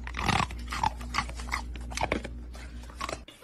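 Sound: dog eating an ice cube in a meme video

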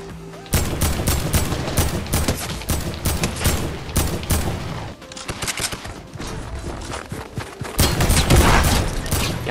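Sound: gunfire from weapons in the video game Fortnite

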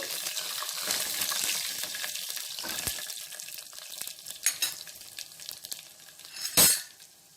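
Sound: crushed garlic and dried red chillies frying in a pan

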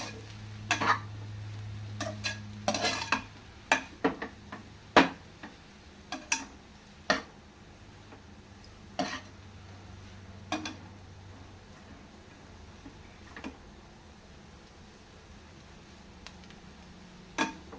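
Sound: stirring street style noodles with masala in pan

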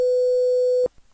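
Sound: quantized 500 Hz sine wave tone

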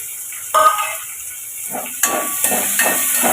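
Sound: onions sautéing in oil in a pan

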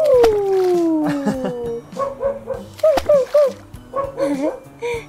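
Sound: toy puppy barking

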